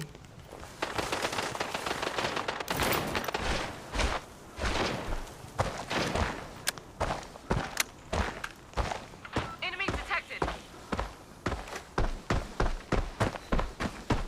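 Rapid gunfire in the shooter game Arena Breakout, dense bursts of automatic fire followed by a long series of sharp single shots, loud and close, with a player talking over it.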